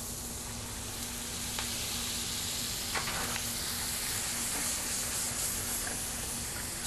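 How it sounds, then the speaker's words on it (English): Chopped tomatoes sizzle steadily in a hot skillet for an Italian pasta sauce, a continuous close frying hiss with a few faint clicks from stirring. "Here I have my tomatoes that have been chopped up. You're going to add it to the skillet"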